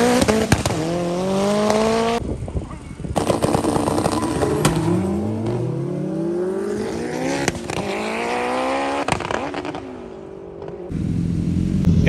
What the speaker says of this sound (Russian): Уши раздирающий выхлоп.